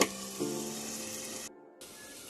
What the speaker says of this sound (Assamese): দেখাই দিছোঁ অকণমান ভাজিখিনি কি ভাজি বনাইছে। জুইত বনাইছে